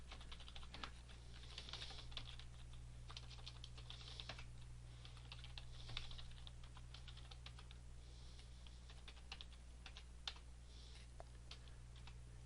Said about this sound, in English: I'm just typing, just doing this here.